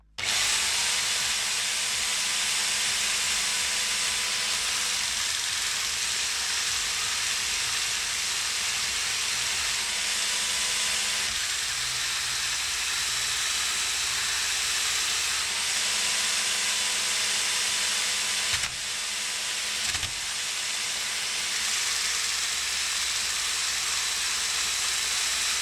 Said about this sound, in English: I'm just going to start sanding, try and get all of these blocks all sanded as quick as I possibly can.